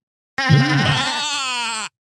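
A single drawn-out goat bleat, loud and close, wavering in pitch for about a second and a half and heard alone against silence.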